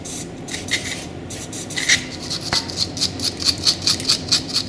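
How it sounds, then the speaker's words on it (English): A wire brush scrubs a brake component just sprayed with brake cleaner during a Brembo front disc and pad replacement, giving a series of short, rhythmic rasping strokes that quicken toward the end, close and fairly loud. "I'm going to get the old trusty brake cleaner and give this a really good clean and get the wire brush on it"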